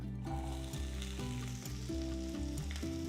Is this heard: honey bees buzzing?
no